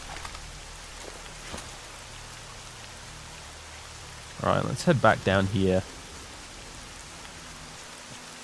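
Steady rain hisses across the ground in the video game S.T.A.L.K.E.R. Shadow of Chernobyl, a constant even wash of drops, with someone briefly speaking over it midway.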